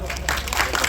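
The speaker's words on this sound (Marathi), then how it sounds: "तर त्यासाठी सर्वांनी टाळ्या वाजवा." Audience at a free screening of the Marathi film Krantijyoti Vidyalaya clapping together, a dense, steady wash of applause lasting under a second with crowd noise mixed in.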